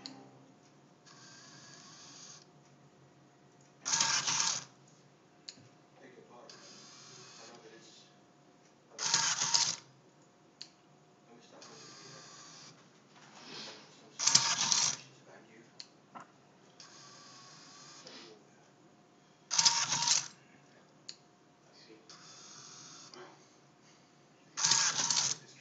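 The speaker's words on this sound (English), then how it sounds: "So this is the pizza cutter robot." A pizza-cutting robot runs with repeated mechanical bursts of whirring and clicking at regular intervals, moderately close, with quieter motor hum and faint voices between the bursts.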